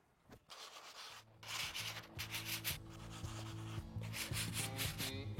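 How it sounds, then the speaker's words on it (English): Bondo body filler on a car panel is sanded by hand with 80 grit paper, giving a steady, close, gritty scraping in rhythmic back-and-forth strokes with brief pauses, no voices. "we're going to go ahead and start cutting it down with 80 grit paper"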